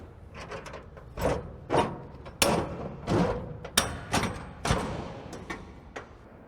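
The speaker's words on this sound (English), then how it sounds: "apply some pressure, giving us access to open the door" A steel shipping container door is worked open by hand, giving a run of sharp metallic clanks and thuds at uneven intervals over about six seconds, close by and fairly loud.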